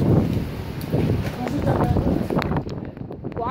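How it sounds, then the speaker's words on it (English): Gusty wind of around 30 mph with horizontal rain buffets and rumbles close against the microphone in uneven surges, while a person talks over it. "It's actually kind of windy in here."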